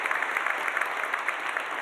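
Audience applause at a conference keynote, a steady patter of many hands clapping at moderate volume, continuous and even with no voices on top.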